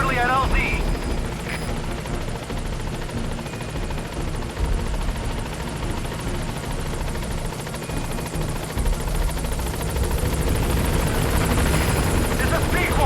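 The Pequod helicopter in Metal Gear Solid V: The Phantom Pain thumps with a steady rotor beat as it arrives at a landing zone, loud and near, growing stronger near the end, with game voices heard over it.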